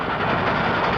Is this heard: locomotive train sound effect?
yes